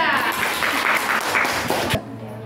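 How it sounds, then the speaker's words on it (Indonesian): A sixth-grade primary classroom claps for a student group after its presentation, a dense patter of hands that stays steady and fairly close before stopping abruptly near the end. "Tepuk tangan untuk kelompok 3."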